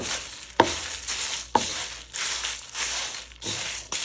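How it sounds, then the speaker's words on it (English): A spice mixture is stirred in a hot kadai off the heat: dry scraping and rustling continues steadily, with two sharp clinks of the spoon against the pan near the start. "But I'm still mixing it because the kadai is still hot."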